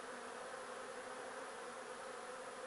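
Honeybees swarm around a low-cost hive in a steady, dense buzzing drone, even and unbroken, fairly quiet and heard without any voices.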